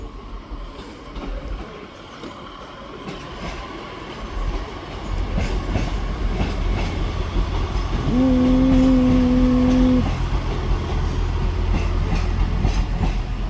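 A Class 156 diesel unit, 156 409, departs Manchester Piccadilly station. Its engine rumble builds to a steady, loud roar close by, with a brief high wheel squeal partway through and rolling rail noise.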